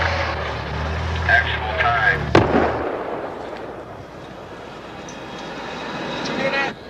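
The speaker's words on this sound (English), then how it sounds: "that was the atomic explosion" An atomic bomb detonates during a nuclear test, heard as one sharp distant crack that gives way to a long, low rolling rumble over a steady background hum.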